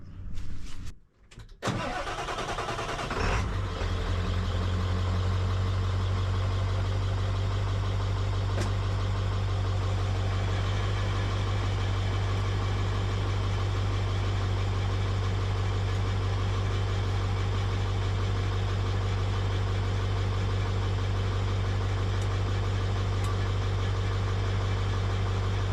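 A damaged, totaled truck engine cranks with a few rough bursts, catches, then settles into a loud, steady idle that runs on alone for over twenty seconds with faint knocking under it.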